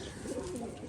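Pigeons cooing softly at close range, a brief low throaty burble with no talking.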